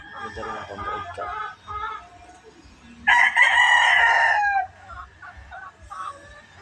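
A broodcock rooster crows once, loud and near, a long strained call after softer bird and yard noise.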